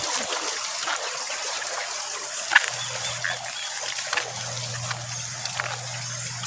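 Water in a shallow stream trickles and burbles steadily at close range, with a low hum running underneath and a few brief splashes.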